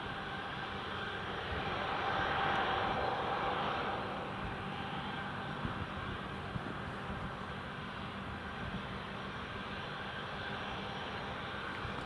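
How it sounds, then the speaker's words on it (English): A Ryanair airliner passes at Newcastle International Airport in the rain, its engine roar swelling to a broad peak early on, then fading into a steady distant rumble with no voices. "here goes the next Ryanair"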